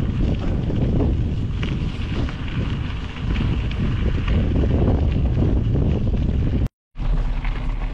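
Strong wind buffets the microphone while riding a gravel bike with front bags, a loud continuous low roar with gusty swells, briefly cutting out near the end.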